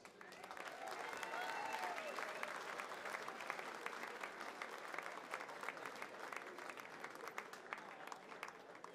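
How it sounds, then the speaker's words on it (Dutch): Sustained audience applause at an award ceremony in the Gouvernement in Maastricht, dense crowd clapping held at a steady level with a few faint voices mixed in. "Nogmaals, een heel groot applaus."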